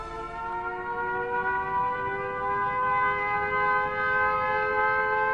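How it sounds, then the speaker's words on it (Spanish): An air raid siren wails during a wartime night alert before German bombers strike a British city, sounding a loud, steady chord of layered tones that holds throughout without a break. "Las sirenas dan la alarma antiaérea."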